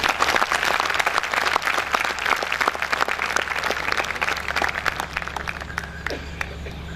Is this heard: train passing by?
no